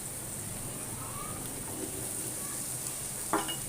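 Carrots and raisins fry in a pan with a soft, steady sizzle, and a brief clink of utensils comes near the end; the sound is fairly faint and no one speaks.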